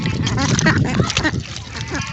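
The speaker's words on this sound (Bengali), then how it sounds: "আমাদের এই হাঁসগুলো অনেক মজা করে খাচ্ছে।" A flock of domestic ducks feeding on snails, with busy quacking and dabbling close by, mixed with a person talking.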